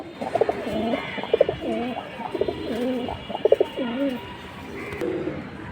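A light-coloured silver pigeon coos close up in a steady series of rolling, throaty calls, with faint background noise throughout.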